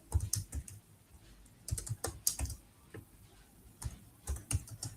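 Computer keyboard keys clatter in quick irregular bursts while JavaScript code is written, with short pauses between clusters of keystrokes, close and fairly quiet.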